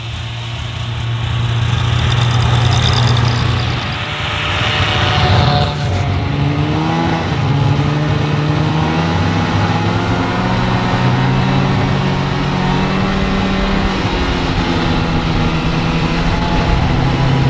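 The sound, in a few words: snowmobiles riding home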